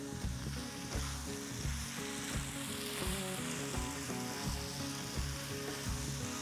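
Lemongrass, Indonesian bay leaves and lime leaves hit hot oil in a pan alongside chilies, giving a loud, steady sizzle and crackle throughout, with a faint tonal hum running underneath.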